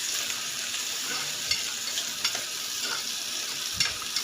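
Sliced onions sizzling steadily in a pan of hot oil while a spoon scrapes and stirs them now and then, close and continuous with no talking.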